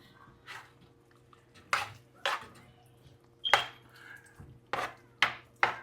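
A spoon knocks and scrapes against a pot as pumpkin is stirred with chili powder and turmeric for Kerala mathanga erissery, several separate clinks spaced irregularly over a faint steady hum.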